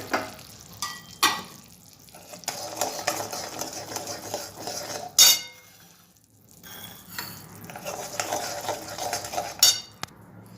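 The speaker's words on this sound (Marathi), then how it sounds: "आणि आता अर्धा मिनटं यांना व्यवस्थित मिक्स करून" A spoon stirs sugar syrup with ghee in a pan, giving steady scraping and swishing with occasional sharp clinks of metal against the pan, fairly close.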